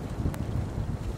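Strong wind buffets the microphone outdoors in an open, snowless green landscape, a continuous low rumbling roar with gusty fluctuations and a brief hiss partway through.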